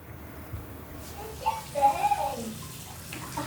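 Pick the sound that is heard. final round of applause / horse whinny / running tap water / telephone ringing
running tap water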